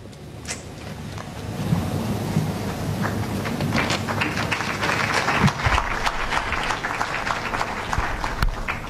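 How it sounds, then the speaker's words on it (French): Sustained applause from a political rally audience in the Democratic Republic of Congo, a dense steady clatter of many hands mixed with crowd noise, continuous for several seconds without a clear break. "Si vous applaudissez comme ça, ça me fait mal."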